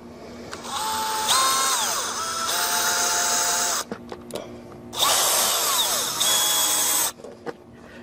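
A power drill drives 1.5-inch number 12 screws while a mini split heat pump is being installed, in two long whirring bursts with pitch sweeps as it speeds and slows, separated by brief pauses and small clicks.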